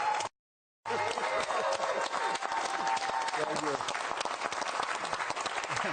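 Audience applauds at Shaq's NBA Hall of Fame induction, a full sustained wash of clapping after a brief gap, with crowd voices underneath.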